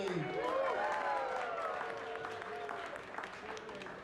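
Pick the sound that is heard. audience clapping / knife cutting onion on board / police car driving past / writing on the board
audience clapping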